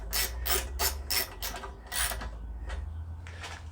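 A ratchet wrench with a 5/16 socket drives screws on a Craftsman lawn mower. It gives a close, rapid series of sharp clicking bursts, about seven strokes in a steady rhythm, with no talk.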